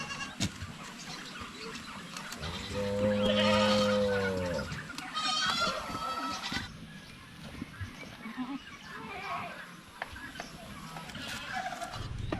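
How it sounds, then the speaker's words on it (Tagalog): Farm goats recovering from orf give two drawn-out wavering bleats in the middle of the stretch, fairly close and moderately loud over quiet outdoor background noise with a few soft voices. "Yung mga kambing natin na pumasok dito."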